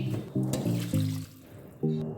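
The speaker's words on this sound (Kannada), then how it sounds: "ಸ್ವಲ್ಪ ಮಿಕ್ಸಿ ಜಾರ್ಗೆ ನೀರು ಹಾಕ್ಕೊಳ್ತಾ ಇದ್ದೀನಿ." Water splashes into a kitchen mixer jar in uneven, close glugging bursts, four of them with short pauses between, while a spiny gourd curry is being prepared.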